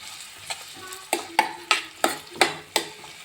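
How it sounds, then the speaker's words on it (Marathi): Onions and green chilies fry in a pan, a steady sizzle broken by about seven sharp, evenly spaced stirring scrapes that grow stronger toward the end, close and alone with no talk. "थोडंसं आपण भाजून घेऊत ना कांदे आणि हिरवी मिरची"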